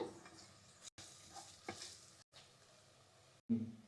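A spoon stirs chili powder into egg curry in a pan, giving quiet intermittent scraping strokes with faint sizzling and brief silent gaps between them.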